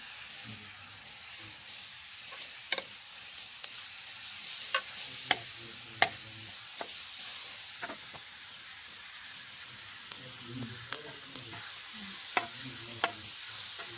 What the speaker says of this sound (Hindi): भुनाई कर लेनी है आपने तमाम मसाला जात की 1 मिनट के लिए, और साथ में आपने टमाटर और हरी मिर्च शामिल कर देनी है।